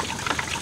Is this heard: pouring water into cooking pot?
yes